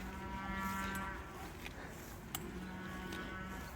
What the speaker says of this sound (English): I think that's a cow on heat, possibly.